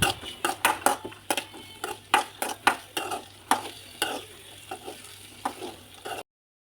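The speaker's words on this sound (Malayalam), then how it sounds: "അല്പം നെയ്യ് ഒഴിച്ച് തേങ്ങാക്കൊത്തെല്ലാം ഒന്ന് വറുത്തെടുക്കാം" Coconut pieces roasting in ghee in a pan, heard as a rapid run of sharp scraping and stirring clatters over a soft sizzle, loud and close, then stopping abruptly.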